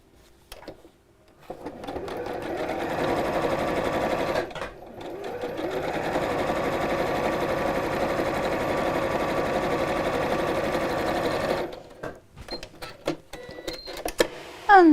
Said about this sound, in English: you're going to take your two pieces and sew these, just like before, right sides together, just across the top.